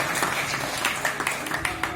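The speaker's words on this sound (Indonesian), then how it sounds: "tepuk tangan untuk Pak Didi" A crowd at a scout jamboree in the Watuagung village hall claps for Pak Didi, giving a steady, dense burst of applause at close range that fills the short moment.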